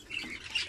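Pet budgerigar parakeets squawk in a short, fairly loud burst of shrill calls, close by, with no voices.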